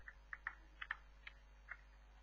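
Faint, sparse keystrokes on a computer keyboard, a handful of separate clicks in an irregular rhythm over a low steady hum.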